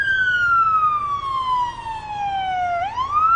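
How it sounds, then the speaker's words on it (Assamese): A fire brigade vehicle's siren near a flyover wails in one long, loud falling tone and then sweeps sharply upward, close and dominant over steady traffic rumble. "আনটো পিনে আৰু এখন অগ্নিনিৰ্বাপক বাহিনীৰ বাহন ততাতৈয়াকৈ আগবাঢ়িছে"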